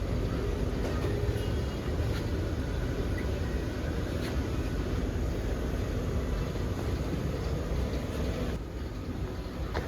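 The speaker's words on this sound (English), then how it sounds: "Now I'll first give pressure to our pressure reducer." Compressed air flows into a pneumatic pressure reducer on a calibration workbench trainer, a steady broad rushing hiss with a faint hum underneath, constant and moderately loud, easing slightly near the end.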